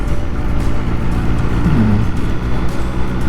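A car speeds past on a road near Swanage, a steady close engine and tyre rumble swelling slightly as it goes by, heard from a stationary spot with constant low traffic noise around.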